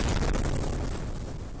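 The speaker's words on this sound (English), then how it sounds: "Massive explosions rocking power lines in Dnipro, Ukraine, sending debris raining down on top of drivers frozen in their tracks." A heavy, rumbling blast from Russian strikes in Dnipro, Ukraine, a loud, close roar that slowly fades, with no voices.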